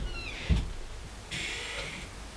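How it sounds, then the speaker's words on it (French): A door creaks open with a high, drawn-out squeal, followed by a brief thump and a second longer creak, heard quietly in a home. "Et la porte qui grince là."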